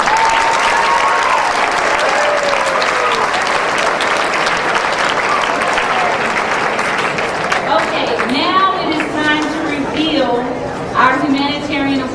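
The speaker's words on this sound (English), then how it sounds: "Another hand clap." An auditorium audience at a high school awards event applauds in dense, sustained hand clapping that fills the whole stretch, with a few voices calling out and rising near the end.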